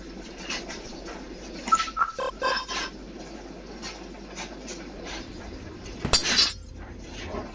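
Glass shatters in the video game Garten of Banban, a few sharp clinks and a bright crash of breaking shards over faint background game ambience and bird-like cooing.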